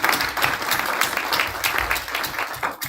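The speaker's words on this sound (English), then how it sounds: "Can you all give round of another applause for Myra?" Audience applause at a spring speakers forum, steady dense clapping filling the whole stretch at a fairly loud level, with no talking over it.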